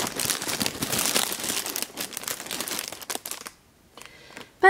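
A plastic bag held over a camera lens crinkles loudly and continuously for about three seconds, then goes quiet, with a few softer rustles and a sharp final crackle.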